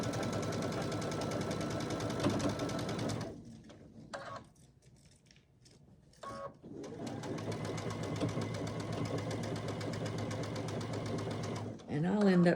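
Sewing machine stitching pieced quilt blocks at a quarter-inch seam, a loud steady mechanical whir with a short pause partway through before it runs on again.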